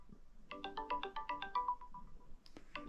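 A phone rings while an outgoing call is placed, giving a melodic ringtone of rapid repeated tones that plays clearly for about two seconds before a short new sound begins.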